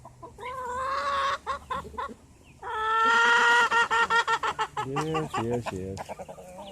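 Birds, including ducks, squawk and cluck loudly and close by, a chorus of poultry calls in rapid bursts, with a brief spoken word in between.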